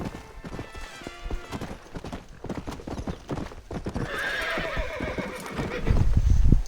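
Horse hooves clip-clop in a steady, busy rhythm in a desert-set video game, with a loud whinny rising near the end over layered game sounds.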